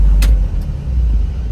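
Low steady rumble from a running 1959 GMC 100 Stepside pickup engine, close and continuous, with a couple of brief faint clicks near the start.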